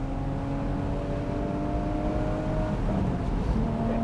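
A Porsche 981 Boxster GTS pulls hard in second gear on a country road, its engine note climbing steadily with rising revs and a low rumbling exhaust heard from inside the car.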